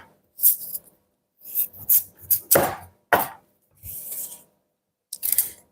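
A serrated saw knife rasps through pumpkin skin in close, crisp strokes, with several short scraping bursts separated by silent gaps and no talking.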